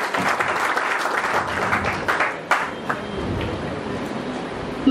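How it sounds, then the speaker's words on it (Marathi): A hall audience at a Malvani dialect literary conference applauds the organisers, steady sustained clapping from a large crowd that stays fairly loud throughout, with a brief dip and a few stray louder claps near the end. "आपण एकदा आयोजकांचे टाळ्या वाजवून जोरात स्वागत केलं"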